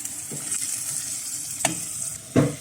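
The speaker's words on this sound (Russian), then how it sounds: "2 минуточки дадим поджариться еще." Onion, tomato paste and canned tomatoes sizzle steadily in a pan for lentil dish preparation, with a few soft stirring scrapes breaking through the continuous frying hiss.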